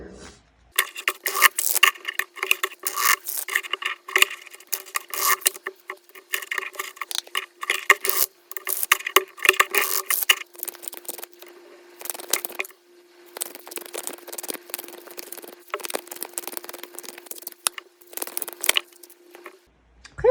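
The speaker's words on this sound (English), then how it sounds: "I'm going to shuffle some tarot cards" Tarot cards riffle and slide in quick, crisp bursts close up, brief pauses between rounds of papery shuffling.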